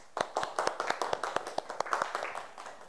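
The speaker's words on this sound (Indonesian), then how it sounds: "Untuk Auliani, kita beri tepuk tangan untuk temannya." A small group of schoolchildren claps in a fifth-grade classroom, giving about a dozen distinct, uneven hand claps that are fairly close and moderately loud.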